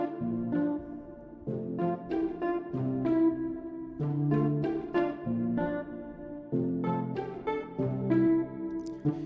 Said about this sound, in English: So the jazz guitar and the pizzicato sounds like this.